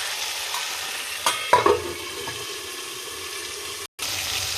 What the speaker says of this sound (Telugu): సో నేను దీని మీద ప్లేట్ పెట్టేసి 3 to 5 minutes కుక్ చేస్తున్నాను